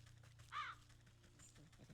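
A single crow caws once, short and fairly clear, in the Wytchwood video game, set against a quiet low hum with faint clicks.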